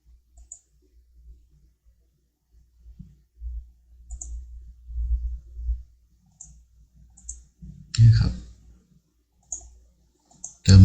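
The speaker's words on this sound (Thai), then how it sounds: "คลิกหนึ่งครั้งในช่องที่เราต้องการครับ" A computer mouse gives a few faint, sparse clicks during graphic design work in Adobe Illustrator, with a louder handling thump near the end amid low background rumble.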